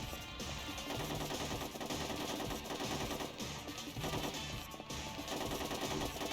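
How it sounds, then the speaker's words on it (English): Sustained rapid automatic gunfire rattles through a wall in the 2005 PSP video game Ghost in the Shell: Stand Alone Complex, a dense, unbroken stream of loud shots running throughout. "This guy's trying to shoot through the wall."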